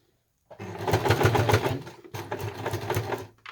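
A sewing machine stitching bias binding onto a fabric oven mitt. It runs in two close, loud bursts of rapid rhythmic whirring and clacking, separated by a brief pause, with no talking.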